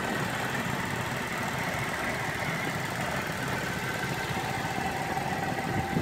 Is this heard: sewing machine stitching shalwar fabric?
no